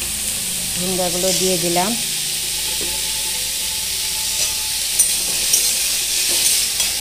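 Ridge gourd stirred and fried in a pan for a small-fish shukto, a loud steady sizzle with scraping stir strokes throughout and a brief spoken word near the start.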